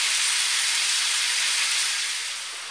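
Beef sizzling in a hot pan for a Thai beef salad, cooked well done, a steady bright hiss of searing that holds evenly and eases slightly toward the end, with no voices.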